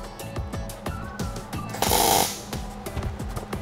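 MIG welder set up slightly wrong, used while narrowing a VW Bug beam: a rough, irregular crackle of uneven popping bursts close by, with a louder continuous hissing stretch midway.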